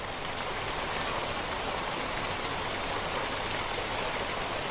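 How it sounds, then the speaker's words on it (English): Philosopher Falls, a waterfall in Tasmanian temperate rainforest dropping through moss-covered stone chambers, gives a dense, steady rushing roar, loud and unbroken throughout. "Philosopher Falls drops through chambers of moss-covered stone"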